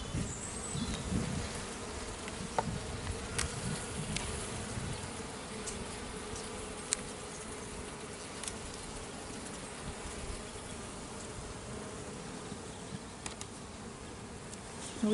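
Honey bees buzz steadily around a rooftop hive, a dense, continuous drone of many insects with occasional individual bees passing close, no voices.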